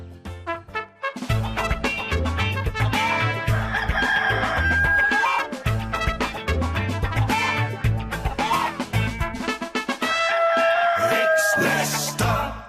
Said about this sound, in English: here comes the wake-up call from Lester the cockerel. Cock-a-doodle-doo.